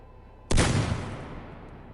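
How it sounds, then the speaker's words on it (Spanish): A single Remington shotgun blast hits hard and close, a dull, heavy boom that rolls away over about a second and then leaves silence. "El disparo fue sordo y húmedo, un trueno espantoso y contenido"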